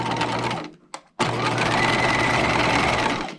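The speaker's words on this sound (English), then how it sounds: "We're going to start on one short end and back stitch." Sewing machine back stitching the short end of a removable collar seam in pink thread, a steady loud whirring run that stops briefly, gives a short burst, then resumes continuously and close.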